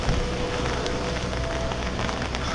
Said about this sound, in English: We're not afraid of a little bit of rain.